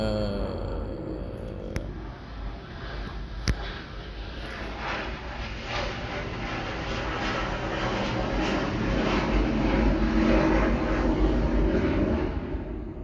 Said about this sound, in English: there's a plane flying above me and it sounds like it's about to crash or something.